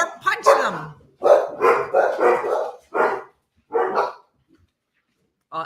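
Several dogs barking in a home during a chaotic morning as a visitor arrives, loud close barks and yips in irregular bursts with short pauses.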